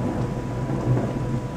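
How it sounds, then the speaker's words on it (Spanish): A thunderstorm: a steady low rumble of thunder under a dense hiss of falling rain, continuous and fairly loud, with no voices. "¡Caen relámpagos!"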